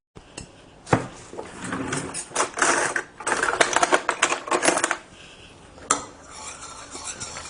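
A spoon stirs and scrapes around a bowl of homemade granola mixture in quick, uneven bursts, close by and with no voices.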